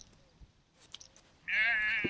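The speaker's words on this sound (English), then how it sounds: "I'm just going to try and point my microphone at these goats who are chasing this guy with a dog." A territorial goat near a riverside towpath, chasing a man walking a dog, lets out one loud, close, wavering bleat that follows a few faint scuffs and thuds.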